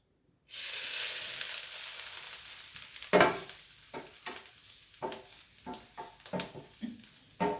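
Freshly grated coconut drops into hot coconut oil in a pan, starting a sudden, strong frying sizzle that carries on steadily, broken by repeated sharp stirring and scraping strokes.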